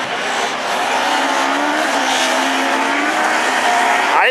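Rallycross race cars, including a blue Peugeot, racing at Dreux with loud, continuous engine roar close by and a rising whine near the end.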